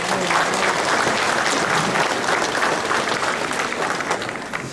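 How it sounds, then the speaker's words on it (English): Sustained applause from an audience at a Hmong American Day celebration, dense steady clapping that fills the whole stretch at a loud, even level. "So give them a round of applause"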